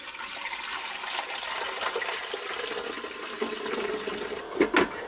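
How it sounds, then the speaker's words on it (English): A Keurig K Elite coffee maker heats water with a steady close hiss and soft bubbling, ending in a couple of brief knocks. "when you fill the water, it'll start heating the water"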